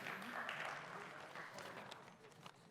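A burst of crowd applause, many hands clapping together, loud at first and gradually thinning out over a couple of seconds.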